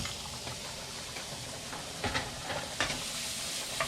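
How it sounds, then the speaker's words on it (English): Sliced carrots sizzle steadily in a hot pan for japchae while being stirred, with soft scraping accents and a few louder stirring bursts over a constant frying hiss, fairly quiet and with no talking. "Give that a quick stir."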